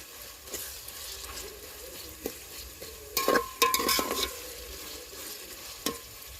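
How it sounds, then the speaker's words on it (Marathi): Onions frying for chicken biryani while being stirred in a pan, a low continuous sizzle with scattered scrapes and a busier burst of stirring midway, close and moderately quiet, no voices. "आता कांदा मस्त आपला लाल उसर त्याला हलवीत राहायचं."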